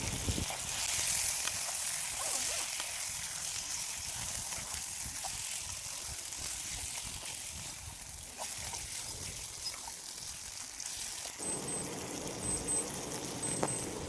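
Half a kilo of washed chicken for a curry, cooked in a pan over a gas flame at a farm picnic, hisses in a steady, close sizzle that carries on unbroken, with faint scraping from stirring and no talk.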